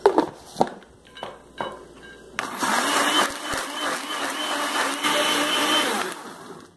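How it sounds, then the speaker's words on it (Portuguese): A few clunks and taps, then a blender whirs on loudly and runs steadily for several seconds before cutting off. "esse liquidificador meu, ó, é rapidíssimo. Ele tritura bem."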